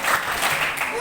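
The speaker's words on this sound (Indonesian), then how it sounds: "saya ajarin tepuk biar kalian tuh bisa semangat" Students clap together in a quick burst of rhythmic applause during a shared school meal, with voices mixed in around the clapping.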